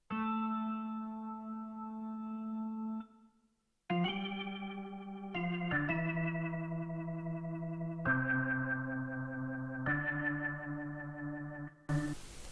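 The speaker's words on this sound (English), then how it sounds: "the organ is from SRX keyboard also. The preset name is Gospel B, and it sounds like this." A Gospel B organ preset from an SRX keyboard plays sustained chords that change several times, with a short gap early on and no voices.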